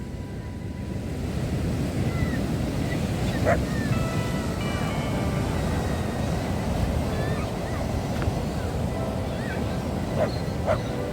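Stormy sea waves crash continuously on the shore in Odesa, a steady loud roar of surf with wind buffeting the microphone, while faint voices and brief chirps sit far in the background.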